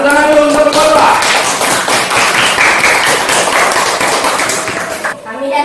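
A group of students claps hands together in a classroom presentation, dense steady clapping with voices mixed in that fades out near the end.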